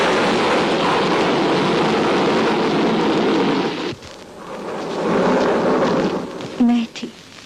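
Heavy, steady rain of a stormy night roars loudly throughout, with a brief low rumble near the middle and a short tonal sound near the end, used as dramatic film sound effects.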